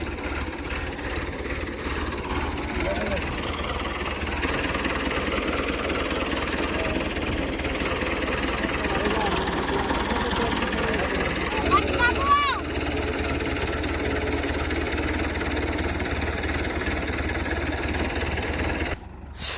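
A tractor engine runs steadily while hauling threshed wheat grain during harvest season, a continuous mid-pitched rumble throughout with people talking over it.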